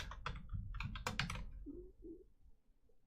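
Quick clattering keystrokes on a computer keyboard come in close, uneven bursts for about a second and a half, then trail off into faint scattered clicks.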